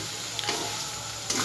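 Sugar is stirred into green mango chutney cooking in a wok, with a soft continuous sizzle and a couple of brief utensil scrapes at the start and end.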